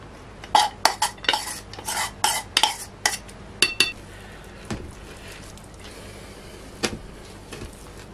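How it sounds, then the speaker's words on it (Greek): A spoon stirs raisins through a thick mixture in a bowl, scraping and clinking in irregular bursts that thin out to occasional knocks over a low background hum. "Ανακατεύουμε να πάει η σταφίδα μας παντού."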